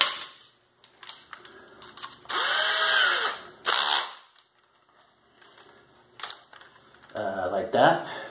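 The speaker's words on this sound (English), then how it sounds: "Grab the drill." A power drill whirs in a few short bursts while drilling a hole, the longest lasting over a second, with clicks and handling noise between them, fairly close.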